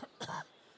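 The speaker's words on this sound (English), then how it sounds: "She bends over double in a violent coughing fit." A woman coughs in the video game Divinity Original Sin 2, a short burst of one or two close, throaty coughs that quickly fade into quiet.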